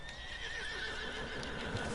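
A horse in Red Dead Redemption 2 neighs and whinnies over faint hoof clip-clops, a steady, moderately loud call lasting the whole short moment with no talking.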